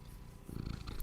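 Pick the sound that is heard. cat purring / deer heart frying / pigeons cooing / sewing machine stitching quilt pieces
cat purring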